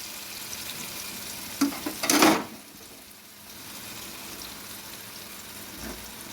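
Hilsa fish pieces are set one by one into a hot frying pan, giving a brief loud sizzling burst around the middle amid faint background crackle, then quieter hiss.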